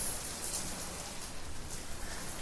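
Monsoon rain falls steadily, a dense even hiss of drops on surfaces, fairly quiet and continuous with no voices.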